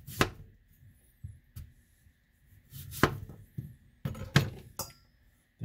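A knife shaves the flesh off a mango for mango salsa, giving scattered scraping cuts and soft knocks against a board, close by, in irregular bursts separated by quiet gaps.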